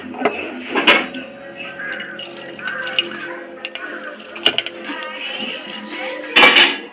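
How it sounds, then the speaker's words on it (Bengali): Coconut milk, pressed from coconut ground to a paste, is strained through a metal sieve into a pot. Clinks and scrapes of metal on metal sound close by, with light trickling liquid and a few sharper knocks. "এবার আমি নারকোলের দুধটা আমি ভালো করে ছেঁকে নিচ্ছি"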